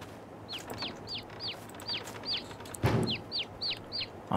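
Chickens in Farming Simulator 22 cluck in a quick run of short, sharp repeated calls over a low farmyard hum, one louder thump midway.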